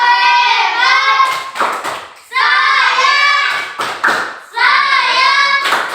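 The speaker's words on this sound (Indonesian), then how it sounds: "Tepuk hebat untuk saya dulu. Tepuk hebat." Children in a classroom do the rhythmic 'tepuk hebat' clap: three loud chanted phrases, each followed by a few sharp hand claps, repeating in a steady pattern close by.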